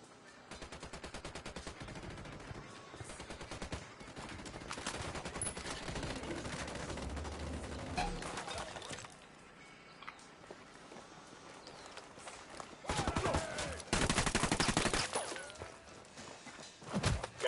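Bursts of rapid gunfire in Ghost Recon Wildlands, a firefight against cartel members: dense volleys of sharp cracks in clustered runs, loud and close, with quieter gaps between bursts and a louder stretch near the end.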